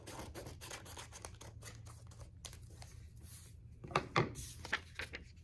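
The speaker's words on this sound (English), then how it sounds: "take your handy scissors and you cut" Quiet snips of scissors cutting paper, a series of short cuts, with a few louder crinkly snips toward the end.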